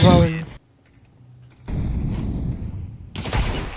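Video game gunfire: a loud burst of rapid shots opens, followed by a quiet stretch, then a steady rumbling background and another sharp crackling burst near the end.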